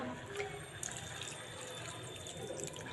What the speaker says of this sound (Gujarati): રાજમાં ડૂબી જાય એટલું પાણી ઉમેરીશું